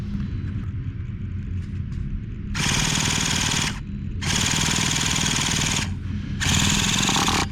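A Traxxas T-Maxx 3.3 nitro RC engine fires up in three loud, close bursts of high-revving buzzing, separated by brief idling pauses over a steady low rumble.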